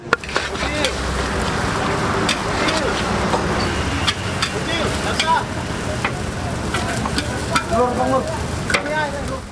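Mie balap noodles stir-fried in a wok at a busy Medan street stall, with steady loud sizzling, rhythmic scraping and clanking of the spatula against the pan, and people talking over the cooking.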